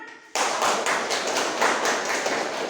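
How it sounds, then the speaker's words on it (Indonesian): A group of middle school students claps in a classroom, starting abruptly after a short quiet moment and continuing as a loud, fairly even patter of hands with slightly uneven rhythm. "Tepuk tangan"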